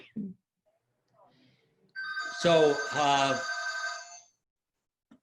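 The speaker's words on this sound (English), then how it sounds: "I'm sorry about the phone, but I can't turn it off." A telephone rings during a talk on triathlon training, with a strong harmonic ring lasting about two seconds in the middle and brief speech before it.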